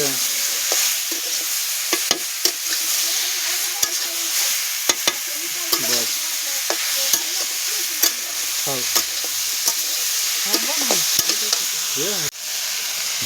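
Chatu mushrooms fry in hot oil with a continuous sizzle, broken by repeated scrapes and clinks of a spoon stirring the pan in an Odia home kitchen, close and steady throughout.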